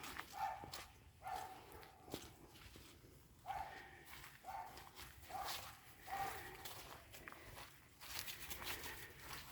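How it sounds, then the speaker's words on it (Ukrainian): Dogs bark from behind a fence at a country dacha on an early autumn walk near Ivano-Frankivsk, several separate barks spread across the clip at a moderate distance, with footsteps and outdoor ambience around them. "Нас ганяють, там собаки є."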